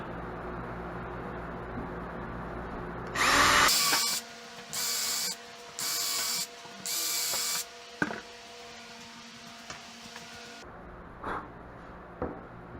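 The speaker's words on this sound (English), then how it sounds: "Drill some pilot holes." A power drill whirs in four short, evenly spaced bursts, close and loud, drilling pilot holes in a board over plywood while repairing an RV bed frame, after a brief louder burst of machine noise, then quiet handling sounds.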